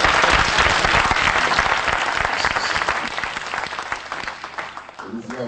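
A church congregation bursts into loud sustained applause and cheering to acclaim Jesus, dense clapping filling the hall before it thins out near the end.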